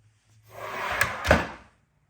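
A drawer in a workshop cabinet holding drill bits and hole saws slides shut with a short rolling rumble ending in two soft knocks, close and alone.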